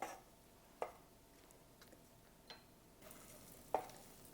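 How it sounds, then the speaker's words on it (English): Onion being stirred in a frying pan while cooking for Punjabi shahi paneer, with a few distinct scraping strokes spaced apart over a faint low sizzle, fairly quiet and close, no talking. "You want to keep moving the onion around a little bit so it doesn't stick to the bottom of the pan"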